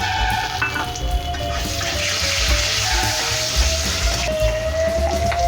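Bay leaves and green chilies sizzle in hot oil for a vegetarian cabbage dish, a steady, loud frying hiss running unbroken throughout.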